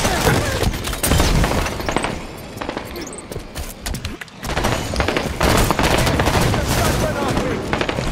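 Dense, sustained gunfire in Halo 5: Guardians, including plasma caster shots and fire from a Ghost vehicle, loud and continuous with rapid bursts and a brief lull midway, mixed with game effects.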